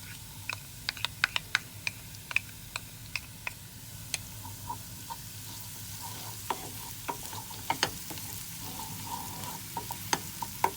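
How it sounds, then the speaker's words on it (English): Garlic and parsley sautéing in a pan for a carrot appetizer, a soft steady sizzle beneath repeated sharp clicks and taps of a utensil against the pan. "We don't need to saute it that much because the garlic could burn and we don't really want that."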